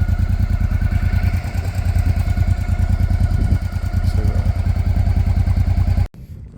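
A Honda XRV motorcycle engine idles steadily and loud up close while the bike is parked during a trip through Morocco, its rhythmic low chugging continuing throughout before cutting off abruptly near the end.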